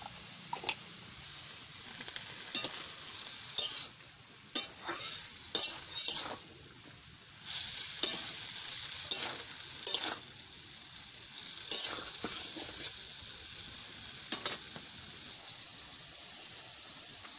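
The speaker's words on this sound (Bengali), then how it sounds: "লাউ শাক তো ভাজা হয়ে গেছে" Bottle gourd greens frying in a pan with salt and turmeric, a steady soft sizzle broken by repeated sharp stirring scrapes of a utensil against the metal, close and clear with no talking.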